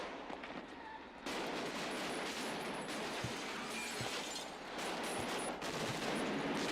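Gunfire from an action film playing on a television sounds as dense, rapid bursts of shots with sharp cracks over a continuous noisy roar, heard from a room and continuing throughout after a quieter opening.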